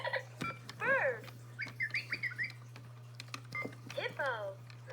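A baby toy plays a recorded bird call of short chirps and warbling tweets over a constant electronic hum. Clicks and button presses sound between the calls.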